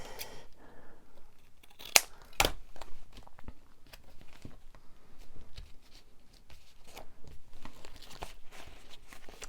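Rummaging through a pile of paper and card scraps for buried scissors, with soft rustles, taps and a couple of sharp clacks up close, fairly quiet throughout.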